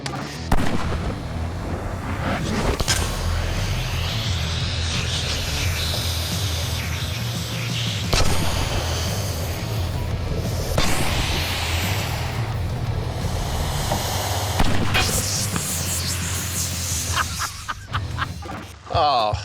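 Gunshots fired at a scuba tank, several sharp reports spaced through an outdoor scene, with people talking and cheering between shots.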